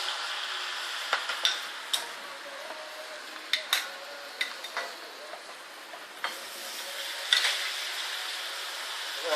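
Plantain slices fry in hot oil in a pot with a steady, close sizzle. Scattered light clinks of a utensil against the pot break through the hiss.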